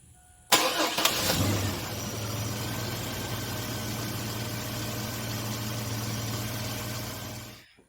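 A GM 4.3L Vortec V6 cranks briefly and fires right after an ignition coil replacement, then settles into a steady, even idle with a low rumble that holds close and loud until it is shut off.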